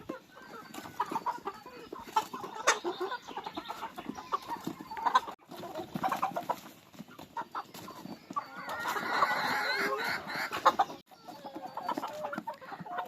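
Farm chickens cluck and call in bursts while pecking at a cabbage hung up for them, several hens near at hand, busy and uneven, with quieter gaps between the louder flurries.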